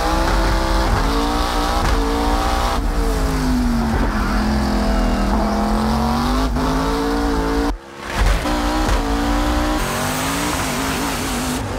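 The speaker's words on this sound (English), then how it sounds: "Ah, his car sounds incredible." Ken Block's rally car on a mountain hill climb, its engine revving loud and continuous through gear changes with a short break near the end, with no talk.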